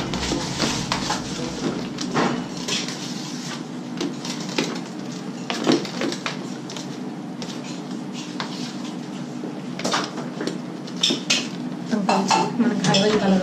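Ivory-coloured cake icing being mixed in a bowl, heard as repeated scraping and clinking of a utensil against the bowl in irregular bursts, with soft background noise between strokes.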